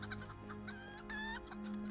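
Chickens cluck repeatedly in the video game LOTRO during a free range chicken run, close and fairly loud, with a sustained game hum underneath.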